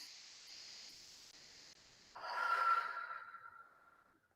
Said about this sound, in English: Maybe take a couple of deep breaths.